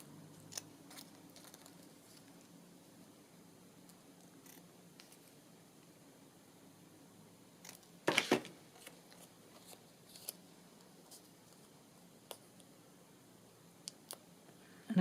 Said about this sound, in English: Just snip those corners off.